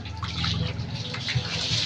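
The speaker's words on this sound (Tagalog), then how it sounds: "Binuksan ko yung gripo, guys." Water runs from an opened faucet, a close, steady splashing hiss with light gurgling and no voices.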